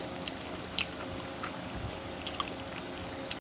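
Close crunchy bites and chewing of tea biscuits, with sharp crisp snaps scattered over a steady low kitchen hum and faint background clatter; no voices.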